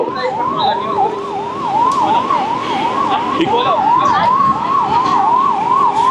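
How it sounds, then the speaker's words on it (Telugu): A wailing ambulance siren sweeps up and down continuously, loud and fairly close, with traffic rumble underneath, at a major fire in Cherlapally, Hyderabad. "అంబులెన్స్ కూడా వస్తుంది అక్కడి నుంచి"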